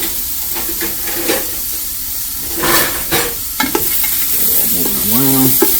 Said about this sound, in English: Again, we're sauteing, we're not frying. That sizzle right off the bat.